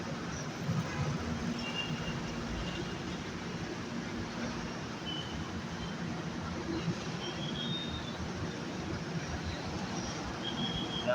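Inside a crowded MRT train in motion, a steady rumbling roar of wheels and carriage noise fills the space, with faint squeals now and then and no clear talk.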